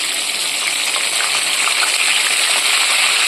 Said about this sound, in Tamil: பூண்டை போட்டுட்டு அது கொஞ்சம் பொரிஞ்சதும் கருவேப்பிலை போட்டுக்கலாம்.